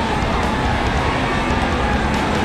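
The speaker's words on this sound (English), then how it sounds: "You can hear the crowd." Roaring crowd noise at a Martinsville NASCAR short-track race, a dense, steady wash of cheering and engine-laced din filling the whole stretch, loud and unbroken with no distinct voices standing out.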